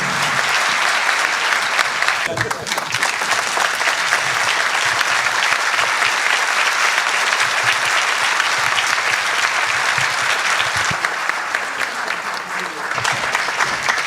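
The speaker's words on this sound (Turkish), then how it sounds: "Bütün sanatçılara alkış istiyorum" Sustained crowd applause for the performers at a Valentine's Day concert, with a thick, even wash of clapping from many hands that holds steady throughout, close and full.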